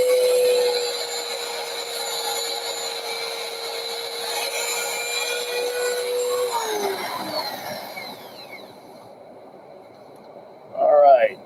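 Wooden bowl spinning on a lathe while being sanded with 320 grit paper, a steady whirring rub that fades after a few seconds, then a brief louder clatter near the end.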